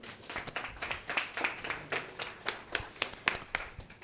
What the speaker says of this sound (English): we move on to the round of applause for him